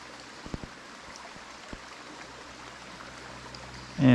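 A small mountain stream flows in a steady, soft rush, with a few faint clicks early on and a brief louder noise near the end.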